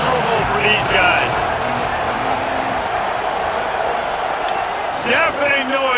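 Stadium crowd in EA College Football 27, a loud continuous roar filling the background while commentators talk over it.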